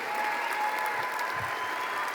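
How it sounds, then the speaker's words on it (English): A high school commencement crowd applauds the graduates, a dense, even wash of many hands clapping at a distance without pause, with faint voices mixed in. "Round of applause for these beautiful young people."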